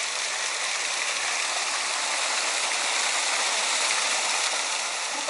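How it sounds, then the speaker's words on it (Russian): Small cascading waterfalls and fountains in a landscaped residential complex garden in Alanya, Turkey, give a steady, dense rush of splashing water throughout, with no pauses. "водопадики с фонтанчиками"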